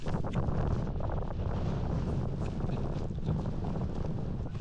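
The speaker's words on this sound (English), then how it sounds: "Oh my gosh, it's windy." Strong wind buffets a microphone outdoors in rain, a dense continuous rumble and roar that stays loud and close for the whole stretch.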